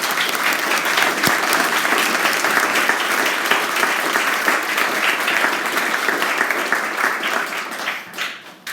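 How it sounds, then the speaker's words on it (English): Sustained applause from an audience thanking the panelists at a political discussion forum, steady and dense clapping throughout before tapering off near the end. "let's have a round of applause for our panelists"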